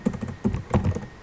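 Keystrokes on a computer keyboard while entering employee details into Tally accounting software, a quick run of close, moderately loud clicks with a firmer press like an Enter key, with no speech.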